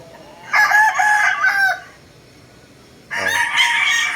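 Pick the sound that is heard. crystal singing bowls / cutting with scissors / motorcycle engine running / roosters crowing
roosters crowing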